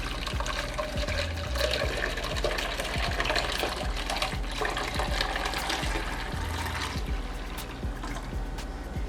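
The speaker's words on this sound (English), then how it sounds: "now I'm just going to carefully transfer it into my measuring cup." Strained homemade weight-loss drink is poured steadily into a measuring cup, a continuous close trickle and splash of liquid with repeated low thumps underneath, no talking.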